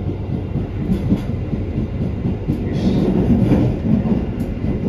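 A Taksaka passenger train rumbles steadily over the Sakalibel bridge at Bumiayu, heard from inside a carriage, with continuous low wheel and rail roar and faint clickety-clack swelling slightly in the middle.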